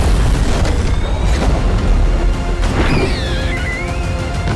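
Sojourn's railgun fires in the shooter game Overwatch 2, with heavy booming blasts and crashes over a dense battle din, and a whining energy sweep rising and falling partway through.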